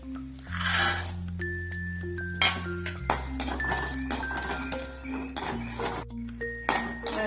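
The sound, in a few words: peanuts dry-roasting and stirred in a pan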